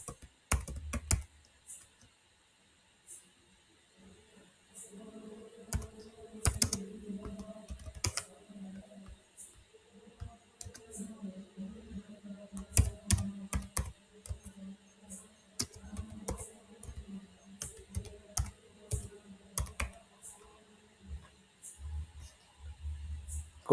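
Keys clatter on a computer keyboard as remarks are typed into a transaction entry, bursts of close, crisp tapping separated by short pauses, with faint talk in the background.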